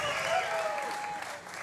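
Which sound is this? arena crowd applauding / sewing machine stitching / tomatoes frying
arena crowd applauding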